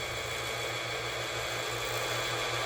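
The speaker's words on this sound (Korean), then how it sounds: "재봉틀 북실을 감는 기계니까 이 기계가 속도는 빠릅니다." A Singer 4423 sewing machine winds its bobbin at high speed, giving a steady, continuous motor whir with a low hum. The sound runs unbroken and loud for the whole stretch.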